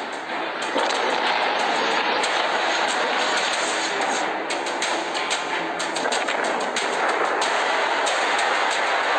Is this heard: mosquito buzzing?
no